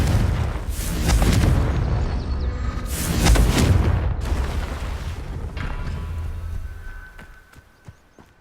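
A Confringo blasting spell explodes in the Hogwarts Legacy video game, with loud booming bursts around one and three seconds that rumble off and fade, followed by a few faint sharp clicks near the end.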